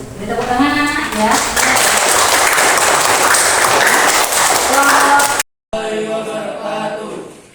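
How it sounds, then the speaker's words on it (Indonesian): Children applauding in a classroom, a loud dense burst of clapping that carries on for several seconds, cuts out briefly, then resumes more faintly. "Beri tepuk tangan anak ya."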